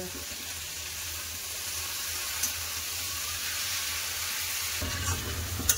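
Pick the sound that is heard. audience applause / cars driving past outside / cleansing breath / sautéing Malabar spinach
sautéing Malabar spinach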